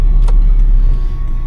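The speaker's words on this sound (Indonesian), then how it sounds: "Wih, mobil apa nih? Ford Everest." A Ford Everest passes on a toll road, heard from inside a moving vehicle as a loud, steady low rumble of engine and road noise with no voices.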